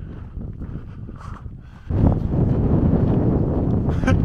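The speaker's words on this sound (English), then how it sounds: "It's so windy." Strong wind buffets the microphone in rough, low rumbling gusts on an outdoor hike in West Texas, growing much louder midway and staying heavy to the end.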